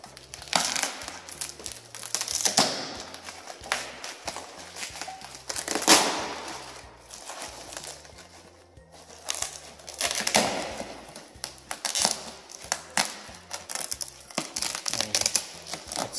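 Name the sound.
plastic bag crinkling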